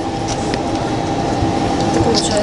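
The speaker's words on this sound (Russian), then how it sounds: "Поезд отправляется." A passenger train pulls away from a station on a trip to Rauschen, giving a loud steady rumble with low wheel clatter and faint high squeals, constant and close, heard from inside the carriage.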